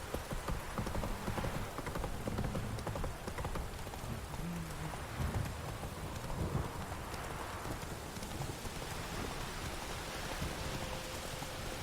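Roach, Geralt's horse in The Witcher 3 game, gallops along with rapid, steady clip-clop hoofbeats mixed into a constant rain-like wash of ambient noise, continuing evenly from start to finish without any voices.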